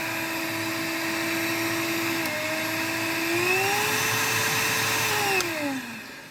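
An Einhell TE-HV 18/06 Li cordless vacuum cleaner runs with a steady close whine, its pitch rising partway through as the mode changes, then dropping as it winds down at the end.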